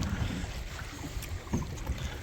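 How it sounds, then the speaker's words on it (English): A two-person canoe out on a windy lake, with steady wind buffeting the microphone over low water rumble and a few soft splashes around mid-clip; no one speaks. "We're out on the lake. You can see the beach way back there. Yeah, we're in a two-person canoe."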